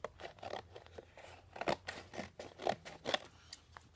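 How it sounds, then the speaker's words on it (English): Close, quiet snips of scissors cutting through a manila file folder for scrapbooking, several crisp cuts at an uneven pace. "I could get my scissors,"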